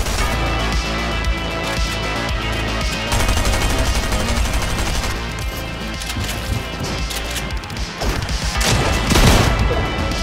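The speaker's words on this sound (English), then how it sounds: "How do you like that SMG spam?" Video game SMG gunfire in an arena match, rapid sustained bursts of automatic fire with crashes and impacts layered over busy game sound, loud and continuous.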